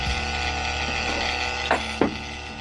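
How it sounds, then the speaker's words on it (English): A Makita cordless vacuum pump running on a refrigeration system manifold while pulling deep vacuum, a steady mechanical drone with a couple of brief clunks near the end, close and fairly loud, no talk. "Now you can hear the sound has changed, and it started to pull some proper vacuum"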